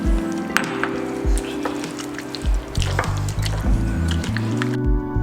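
Chicken lollipop marinade of corn flour, salt, egg and water being mixed by hand, giving wet squishing and squelching sounds in repeated bursts, fairly close, with no talk.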